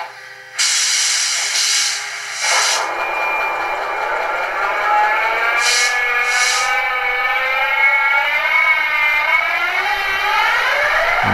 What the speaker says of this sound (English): the usual very impressive Class 71 startup sequence